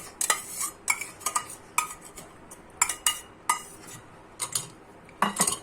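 Boiled corn goes into a mixing bowl with a series of sharp spoon-and-bowl clinks and scrapes, irregular and close, with no voices.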